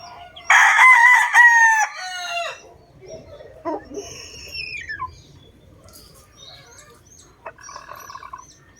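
A backyard cockerel crows loudly and close by, one long cock-a-doodle-doo, followed by fainter clucks and chatter from other fowl.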